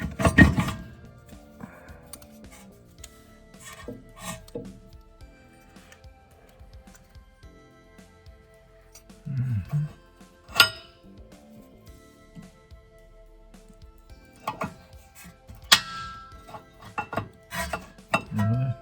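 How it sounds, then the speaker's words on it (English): Metal scraping, clinks and rubbing come from working on a Honda Prelude's brakes as a bolt is removed and the caliper slides off, with intermittent close taps and knocks separated by quiet pauses. "now I'll go ahead and pop this bolt the rest of the way out. See if I can slide the caliper off of there"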